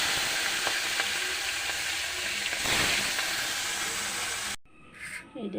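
Fish fries in hot oil in a home kitchen, a close, steady crackling sizzle that runs continuously and then cuts off abruptly near the end.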